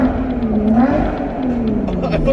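A sports car's engine revs with a rising and falling growl, loud and close, with short changes in pitch as the throttle is worked, sounding fairly alone over a low rumble.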